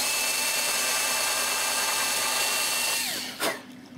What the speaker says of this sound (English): let's very carefully drill our third hole.